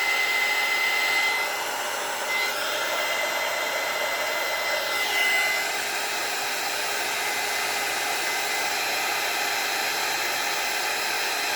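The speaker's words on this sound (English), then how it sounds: "These heat tools are amazing." A handheld heat tool blows hot air for crafting, a constant loud rushing hiss that runs throughout with little change and no speech over it.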